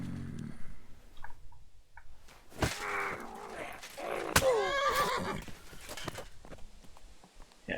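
Horses in Kingdom Come: Deliverance II whinny and neigh loudly in a couple of shrill calls, with some hoof clatter and faint game background.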